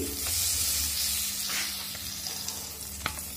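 Capsicum pieces frying in a little butter in a pan, giving a steady broadband sizzle with a few soft clicks and stirring scrapes near the end.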